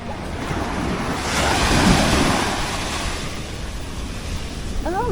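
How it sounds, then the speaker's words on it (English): Ocean waves break and wash steadily on Pebbles Beach in Barbados, a continuous near surf roar that swells in the middle, with wind buffeting the microphone. "We are back at Pebbles Beach."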